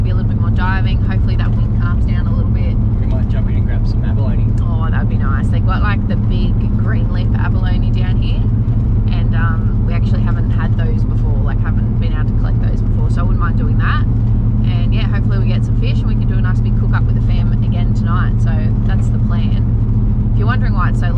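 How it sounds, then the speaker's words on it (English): A farm ute drives along a coastal road on King Island, Tasmania, its engine and rattling body loud and rickety, a steady close rumble throughout with people talking over it. "If you're wondering why it's so loud and rickety and what we're driving, we're in the farm ute"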